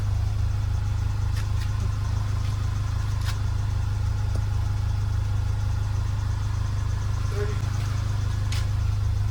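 A Volkswagen GTI with a DSG gearbox idles during a transmission fluid change, a steady low hum with a few faint clicks, continuous throughout without revving.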